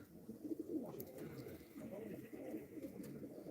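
Gökbenek pigeons, including a youngster, give soft, low coos close by in a quiet coop, with a brief rolling coo early on and faint murmurs after.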